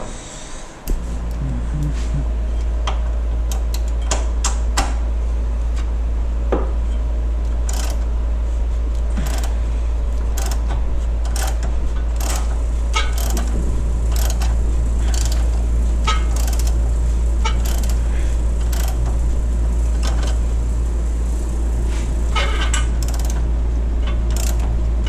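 Mechanical clicks and ratcheting taps from a wrench backing a 10mm bolt out of a Honda Accord K24 engine, the sharp metallic ticks scattered over a steady low hum, close to the mic, with no talking.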